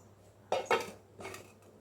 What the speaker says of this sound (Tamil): சேர்த்துட்டு நல்லா கலந்துக்கிறேன்.